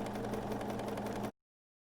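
A sewing machine runs steadily while stitching a quilt block of printed cotton, a continuous close hum and rapid needle chatter that cuts off abruptly after about a second and a half, leaving silence.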